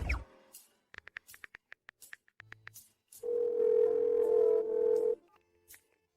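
Rapid beeps of a phone being dialed, then a steady telephone dial tone holds for about two seconds before cutting off into quiet.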